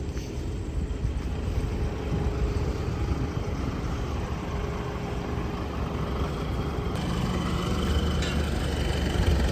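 A heavy truck engine, a 10-25 with a MAN engine, idles with a steady, deep rumble that holds unchanged throughout, with no voices.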